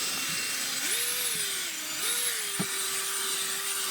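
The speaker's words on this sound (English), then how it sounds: "You can use a drill and then kind of use a Tornador" A power drill running during car interior detailing, a steady close whine that dips and rises in pitch as the load changes, with a brief knock partway through.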